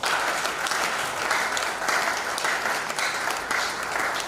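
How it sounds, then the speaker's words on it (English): An audience at a Nigerian export promotion council event in Cross River State breaks into a dense, sustained round of applause, a steady wash of many hands clapping at even loudness throughout. "let us give a round of applause"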